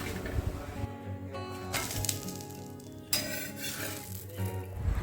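Cauliflower pieces frying for gobi 65 sizzle steadily in a pan at home, with occasional clinks of a utensil against the cookware.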